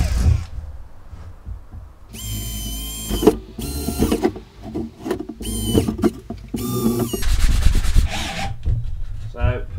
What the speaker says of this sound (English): So putting a little countersink in the holes so that the screw head will be sunk into the panel and not raised.